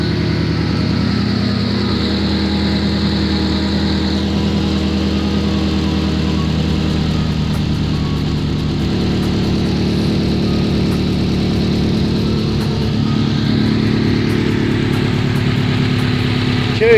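Subaru WRX engine idling steadily while its cooling system is bled, a loud, even hum with a slight shift in pitch partway through, running alone without talk.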